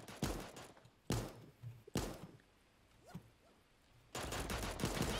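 Bursts of automatic gunfire from another player in Super Animal Royale, four or five sharp rattling volleys separated by quieter gaps, the last burst sustained and louder.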